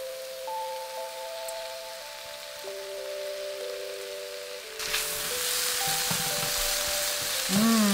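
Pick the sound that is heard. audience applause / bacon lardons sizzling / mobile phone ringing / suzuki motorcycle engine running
bacon lardons sizzling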